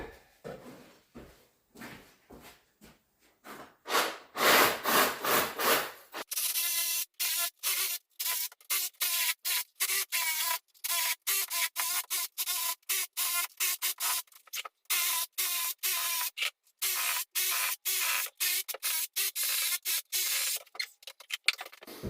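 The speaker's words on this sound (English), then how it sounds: "I'm going to use a saw blade, which is a masonry saw blade, to start the cutting out" Masonry saw blade cutting into a Victorian chimney breast, a harsh, gritty rasping that comes in rapid back-and-forth strokes, heavier at first, then broken into many short, close bursts with brief gaps between them.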